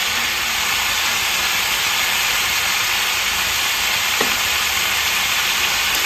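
Chopped ginger frying in oil in a pan, a steady close sizzle and hiss throughout with a brief clink of stirring near the end.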